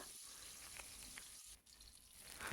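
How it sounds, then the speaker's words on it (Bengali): Rohu fish head and tail pieces frying in hot oil, a steady close sizzle with dense crackling that runs unbroken throughout, briefly dipping before swelling louder again at the end. "তো প্রথমে আমি লেজার আর মাথা ভেজে নিচ্ছি"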